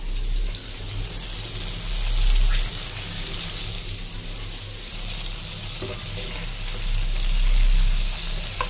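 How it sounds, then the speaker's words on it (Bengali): Shrimp frying in hot oil, a steady dense sizzle and crackle heard close up, swelling louder at moments with faint stirring underneath. "চিংড়ি মাছ চুলা মানে তেলে দেওয়ার সাথে সাথে চিংড়ি মাছটা লাল হয়ে যায়।"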